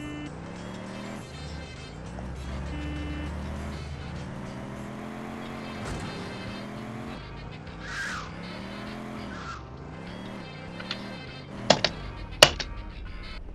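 Car driving in the GTA 2 video game, a steady engine tone climbing and dipping through turns with skidding squeals, moderate in level, ending with a few sharp clicks near the end.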